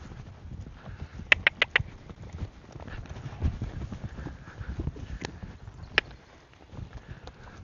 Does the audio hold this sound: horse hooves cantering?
yes